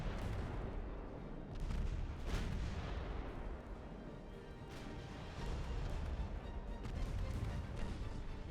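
Warship guns firing in the naval battle game Ultimate Admiral Dreadnoughts, a steady rumble of distant booming salvos with a few sharper blasts, continuous and fairly quiet.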